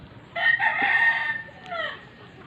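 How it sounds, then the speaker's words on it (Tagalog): A neighbor's dwarf rooster crows nearby, one long drawn-out call with a shorter tail, standing out clearly over low outdoor background noise. "May mga dwarf na manok guys."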